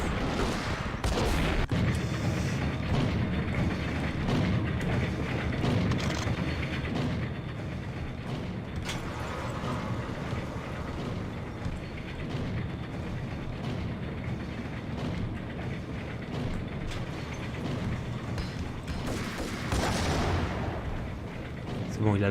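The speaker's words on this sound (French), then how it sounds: "il a lancé sa petite grenade" In the video game Max Payne, a grenade blast erupts amid sustained, dense rumbling gunfire and explosions that stay loud and close across the whole stretch, with heavier bursts near the start and end.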